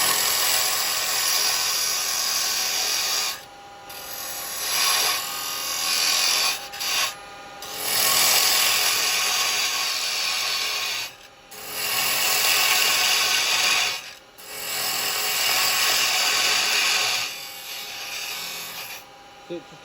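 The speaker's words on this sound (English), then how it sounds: "I'm just going to use a carbide to take that down" Carbide tool cutting a spinning wooden blank on a lathe while turning a ballerina spinning top, a scraping, rasping cut in repeated bursts separated by short pauses, close and fairly loud.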